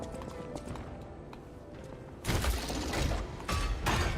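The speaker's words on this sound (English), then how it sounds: "I hear the big guy stomping around" A large enemy in Lies of P stomps around, its heavy thudding footfalls hitting in irregular bursts, faint at first, then suddenly loud and close with clattering impacts.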